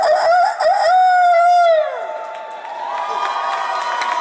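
A crowd at a gaming expo Q&A panel crows together in imitation of a rooster, one loud drawn-out voiced cock-a-doodle-doo that slides down and fades into cheering.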